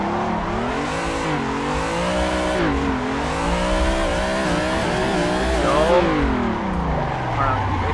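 A race car engine in Assetto Corsa on Xbox One revs loudly while drifting, pitch rising and falling in waves, with tire squeal and someone talking over it.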